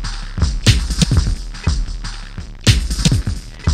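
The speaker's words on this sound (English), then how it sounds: "we get the distortion that would sound like this" A distorted MIDI drum beat hits with punchy kicks and crunchy snares in a steady groove, thick saturated low end and bright gritty cymbal wash, loud and alone with no voices.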